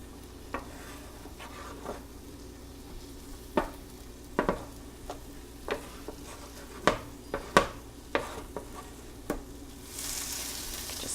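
Egg, carrots, green onions and rice sizzle on an E-Ware 8K103 grill as a spatula stirs and folds them, giving a steady frying hiss broken by a dozen or so sharp scraping taps at an irregular pace.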